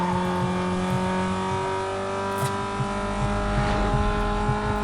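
A car engine racing in Need For Speed: Most Wanted, a loud sustained roar with steady revving and shifting pitch, continuous and close with no speech.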